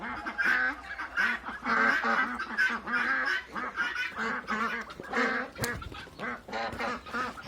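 A female duck gives loud, nasal, honking quacks in quick repeated bursts at close range, with a few short pauses between the calls.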